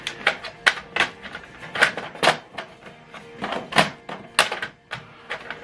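An HP Deskjet 2630 all-in-one printer powers back on with a series of close, sharp mechanical clunks and whirring bursts in an irregular rhythm, the carriage knocking and shifting in short spurts.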